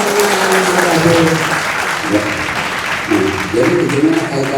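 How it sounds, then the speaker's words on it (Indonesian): An audience claps to welcome a guest on an Indonesian talk show set in a studio. Dense, loud applause runs throughout, with voices and cheering mixed into the clapping. "Kita beri tepuk tangan untuk Bapak Ridwan Saidi yang bergabung."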